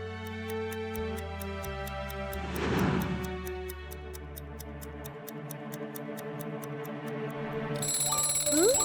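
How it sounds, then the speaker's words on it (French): A cartoon alarm clock ticks steadily over light music, then breaks into a bright, bell-like ring near the end. "Le réveil sonne."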